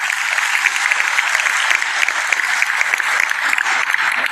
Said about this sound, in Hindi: यूसुफ साहब के लिए तालियां बजा दें।